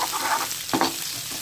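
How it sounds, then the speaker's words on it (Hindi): Sliced carrot strips stirred and fried in a pot, a steady close sizzle with a brief scraping stir partway through, no talk. "ये इसमें डाल देंगे और वो थोड़ा सा फ्राई कर लेंगे"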